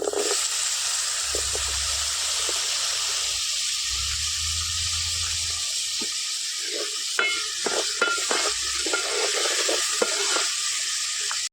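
Tomatoes dropped into a hot pan of oil fry with a continuous bright sizzle, joined by scattered clicks and taps of stirring in the second half, no voices present.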